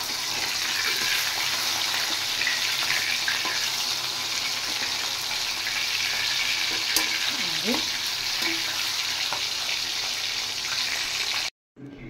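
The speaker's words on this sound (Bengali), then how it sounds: "এবার আমি মাছগুলো ভেজে নেব।" Thinly sliced fish fries in hot oil in a wok, giving a loud, dense, unbroken sizzle with faint bubbling crackle that runs close and steady until a brief drop near the end.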